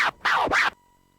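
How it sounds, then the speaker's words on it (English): Short DJ scratch sample from a Scratch Starter Kit, two quick back-and-forth sweeping scratches lasting under a second, loud and alone, then a faint lingering hum. "let me pull up the sound, which is the Scratch Starter Kit."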